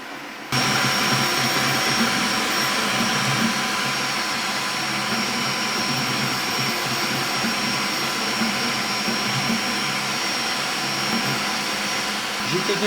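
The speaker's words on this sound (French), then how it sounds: "Et alors au niveau du bruit, comme tu peux entendre, la ventilation quand elle se met en route" The cooling fans of a Creality K1 3D printer kick in and then roar loudly and steadily, a constant close-up whooshing drone that continues without a break.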